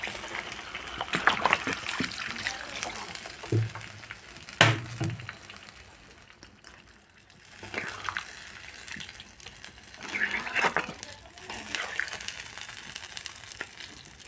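Water is poured into a pan of meat curry as it cooks, bringing short gushing splashes followed by quieter sizzling and bubbling.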